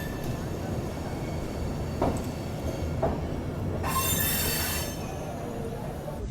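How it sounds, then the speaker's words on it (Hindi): The Sampoorn Kranti Express rumbles steadily along the rails out of New Delhi railway station with a couple of clanks and a bright metallic squeal of wheels; faint voices may be present. "अपनी ट्रेन बिल्कुल ऑन टाइम निकल चुकी है न्यू दिल्ली रेलवे स्टेशन के प्लेटफॉर्म नंबर 16 से"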